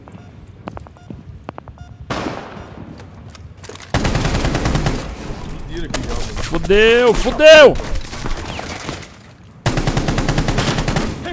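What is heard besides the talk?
gunfire in the video game Rainbow Six Siege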